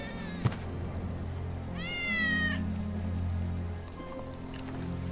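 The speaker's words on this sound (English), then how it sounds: "That's Wedge's cat." A cat meows once in Final Fantasy VII Remake, a rising-falling cry of moderate loudness heard over a low ambient game hum, with a sharp click just before it.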